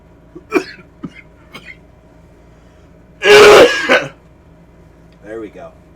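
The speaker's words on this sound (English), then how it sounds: "I'm gonna do a real cough for you." One loud, harsh cough bursts close to the microphone, following a few small throat sounds and breaths, with brief quieter noises after.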